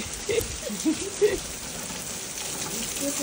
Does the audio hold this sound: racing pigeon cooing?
no